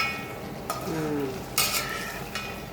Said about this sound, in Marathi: तर आता पूर्ण छान तळून झालेलं आहे